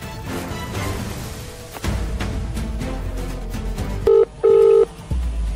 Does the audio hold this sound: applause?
no